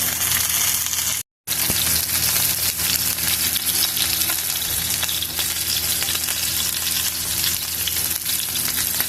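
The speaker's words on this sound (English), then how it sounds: "Now I've got it turned over and I'll let it sear on that side for 5 minutes" A beef roast sears in a hot pan after being turned over, a loud, steady, dense sizzle that continues without pause apart from one brief dropout near the start.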